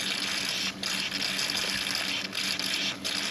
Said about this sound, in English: water started leaking out of the saddle clamp